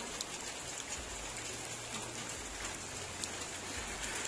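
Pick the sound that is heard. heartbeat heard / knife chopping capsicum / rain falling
rain falling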